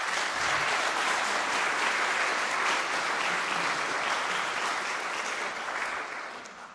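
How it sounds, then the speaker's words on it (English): Sustained audience applause fills a piano competition concert hall, a dense, steady clapping crowd that carries on evenly before gradually thinning and fading toward the end. "A round of applause."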